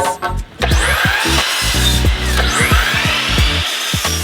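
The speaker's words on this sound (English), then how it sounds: "The first thing I did was cut all of my 2x4s down to size." Power saw cutting 2x4 wood boards to size, a loud close whine that rises and falls with repeated rough strokes through the lumber, with no talking.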